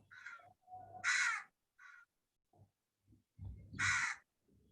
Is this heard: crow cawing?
yes